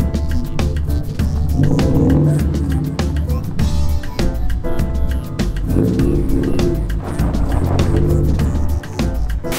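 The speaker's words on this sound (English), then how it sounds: "I can hear the brakes, a bit of surface corrosion on them" A slammed, lowered car drives on corroded brakes that haven't been used for about a month, with irregular scraping and rumbling bursts and knocks over road noise, loud and close throughout.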